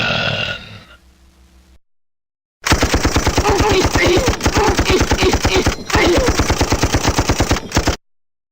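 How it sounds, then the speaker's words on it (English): A brief vocal sound and a pause give way to a Tommy gun in a Windows 3.x game, The Mask: The Origin, firing a loud, rapid, continuous burst with one short break, then stopping abruptly. "A Tommy gun."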